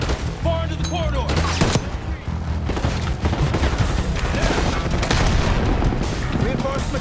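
Heavy gunfire from a Call of Duty Black Ops 6 firefight, with dense bursts of automatic weapons and loud booming blasts overlapping continuously, while voices shout under the battle noise.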